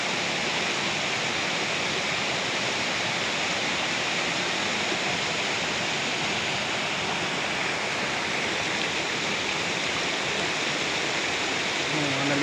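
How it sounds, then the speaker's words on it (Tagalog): Water of a stream at Isarog, Camarines Sur, Philippines, rushes steadily and loudly in a dense, unbroken broadband wash for the whole stretch, with no voices over it. "Wagas-was lang ng tubig ang inyong maririnig."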